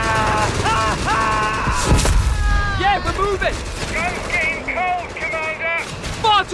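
Gunfire in Company of Heroes 3, with sharp shots and bursts crackling beneath a busy battle scene, a heavy boom near the middle, and voices shouting over the shooting throughout.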